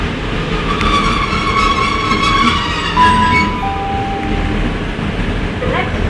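A Class 222 diesel train (222-009) departing Lincoln Central station for Nottingham, a steady rumbling engine and rolling noise with rising tonal whines, fairly loud and continuous throughout.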